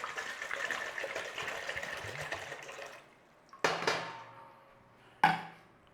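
Two liters of water gush steadily into a cooking pot for a few seconds, then stop; two sharp clanks follow, each ringing briefly before fading.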